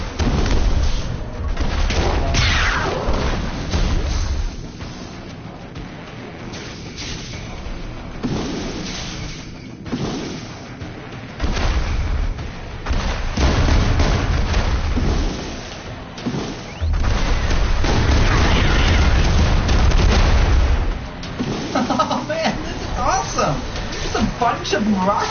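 Rockets fire and explode in Rogue Stormers, a video game: repeated heavy booms and thuds, loud and close, roll on in bursts with a voice talking over them.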